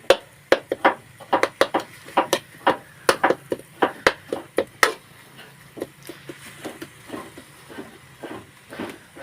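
Rapid, uneven knife chops through shallots on a cutting board, sharp and close, about twenty strikes in quick bursts, then slowing to softer, sparser taps.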